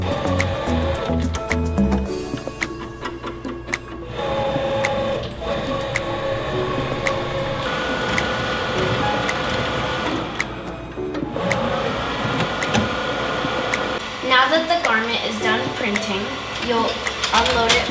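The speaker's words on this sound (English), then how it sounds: "Now that you're ready to print, you're gonna press print, start printing" A Roland BT-12 direct-to-garment printer prints onto a cotton t-shirt, giving off mechanical whirring, clicking and the shuttling of the print head in a close, busy stream of machine noise.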